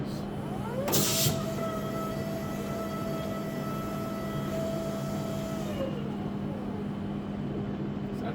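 A Hyster reach truck moves and brakes on its own, with a steady electric motor whine that rises, holds and falls away as it slows, under a constant low hum and one brief clatter near the start.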